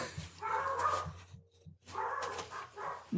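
A dog barks and yips in short bursts, close and fairly loud, with a quiet gap in the middle before more barking, amid background construction activity.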